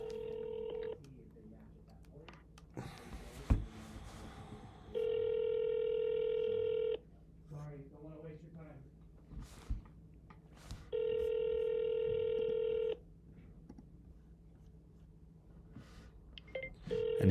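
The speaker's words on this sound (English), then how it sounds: "it calls my phone first. I have to answer it, and then it'll call the lead. I'm putting it on speaker right now." A CRM virtual number places a call through a phone on speaker, sounding two long, loud electronic ringing tones with short beeps and faint background voices between them.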